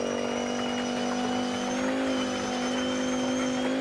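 A 1980s Audi Quattro A2 rally car in the WRC 10 video game drones at steady full throttle along a straight, its engine a loud, even hum that barely rises or falls, with no voices.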